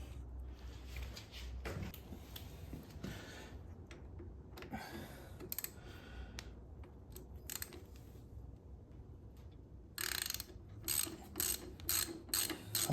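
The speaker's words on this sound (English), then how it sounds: "now we're going to take off our caliper. It's got two T45" A ratchet clicks in short, quiet bursts close up while loosening the two T45 brake caliper bolts on a Harley-Davidson Heritage Softail, with brief pauses between rounds of cranking.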